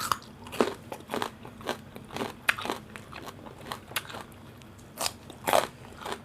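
Crunchy fried food and crisp vegetables are bitten and chewed close to the mic, producing irregular crackly crunches in quick succession with no talk.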